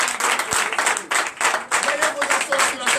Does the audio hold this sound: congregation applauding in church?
yes